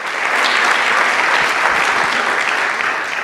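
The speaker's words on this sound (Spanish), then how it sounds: "¿Cuántos le regalan un aplauso a aquel que nos confía su palabra?" A church congregation applauds during a Spanish-language service, steady dense clapping from many hands, loud and close, sustained evenly throughout without a break.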